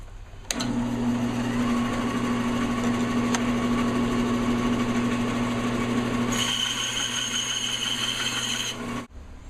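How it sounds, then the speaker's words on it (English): A power saw runs steadily for several seconds while cutting a wood blank, about one inch square, into five-inch sections for pen making. The drone starts abruptly, holds an even tone with a brief change in pitch near the end, and stops suddenly with no talking. "now we're going to cut it into smaller sections that are going to be about 5 inches long"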